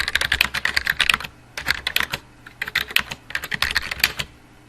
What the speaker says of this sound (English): we can hold down the Shift key, press T, and that capitalizes the T